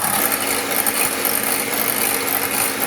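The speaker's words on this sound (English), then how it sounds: "What you're going to do is you're going to whisk this till you get soft peaks." An electric whisk whips dairy cream toward soft peaks for kesar pista ice cream, a loud, continuous, dense whirring buzz that runs unbroken for a few seconds.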